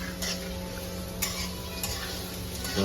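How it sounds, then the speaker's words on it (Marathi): Onion sautés in a pan for a jackfruit vegetable dish, a steady close sizzle with the soft scrape of a spoon stirring through it and no talking. "कांदा ऍड केलाय तर परतवून घेते"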